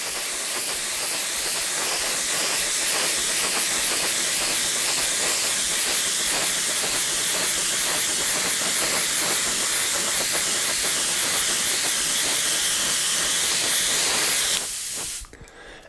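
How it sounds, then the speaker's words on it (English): A spray can hisses loudly and steadily for about fourteen seconds, then cuts off abruptly, leaving quiet. "I like to show it live. So let's spray on some color."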